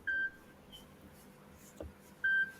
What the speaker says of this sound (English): Someone's beeping.